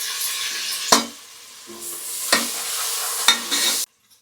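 Chopped fenugreek leaves hiss and sizzle in a hot pan while cooking a village-style keema curry, with three sharp stirring scrapes over steady frying before the sound cuts off abruptly.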